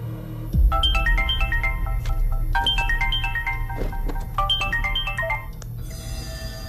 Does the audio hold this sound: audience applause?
no